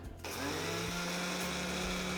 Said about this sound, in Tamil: இதை நான் மிக்சி ஜாருக்கு மாற்றிக்கிறேன் இதை நல்லா நைஸாக அரைச்சி எடுத்துடலாம்